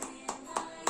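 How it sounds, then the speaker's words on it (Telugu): Kids clap their hands in three soft, evenly spaced claps, quiet and close. "క్లాప్స్ కొట్టు."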